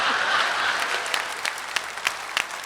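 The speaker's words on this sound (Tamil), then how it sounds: "இது கைத்தட்ட வேணாமா நீங்க?" A studio audience at a Valentine's Day special Tamil stage debate program claps in dense, sustained applause that thins toward scattered individual claps near the end.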